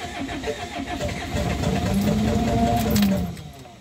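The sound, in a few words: camping car engine running and revving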